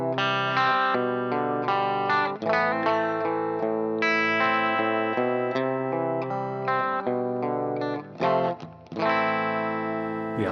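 Electric guitar through a Fractal FM3, FM9 or Axe-FX III preset: sustained, ringing chords and notes played continuously at steady volume, rich in overtones, with a brief dip near the end.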